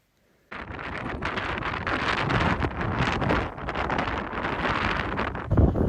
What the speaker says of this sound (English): Holy cow, it's windy up here.